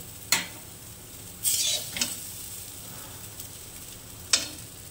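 Snake gourd slices frying in a pan, with a low steady sizzle broken by a few sharp spatters and stirring scrapes, close and fairly quiet, no talking.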